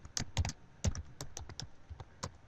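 Computer keyboard typing in quick, uneven bursts of crisp clicking keystrokes, close and distinct, with no talk over it.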